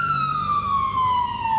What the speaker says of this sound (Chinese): 救护车不断在小城内来回穿梭。